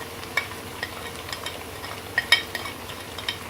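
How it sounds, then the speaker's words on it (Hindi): Taro root curry sizzles gently in a pan as it is fried and stirred, a quiet steady frying hiss broken by light clinks of a spoon against the metal, close by with no talking. "और इसको अच्छी तरह भूनेंगे।"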